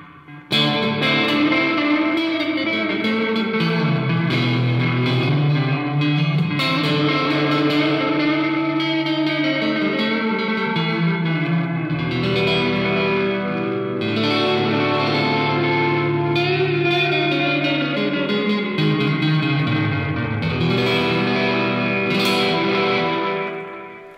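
An electric guitar through a Caline Ghost Rain reverb/delay pedal plays sustained chords and notes washed in heavy reverb and echoing delay, loud and continuous with no talking.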